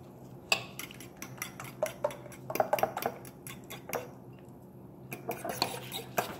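Knife cutting through a piece of egg dish on a plate, giving a series of sharp clicks and scrapes against the plate, close and fairly quiet, with no talking.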